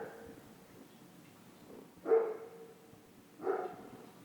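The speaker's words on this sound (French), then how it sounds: "le chien du voisin décide d'aboyer" A neighbour's dog gives two distinct barks a little over a second apart, fairly faint and somewhat distant, against quiet background noise.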